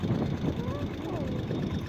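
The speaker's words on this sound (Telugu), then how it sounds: "సునామీ వచ్చేటట్టుంది చూడండి ఎలా ఉందా గాలి" Strong wind roaring and buffeting the microphone, a steady low rumble that never lets up.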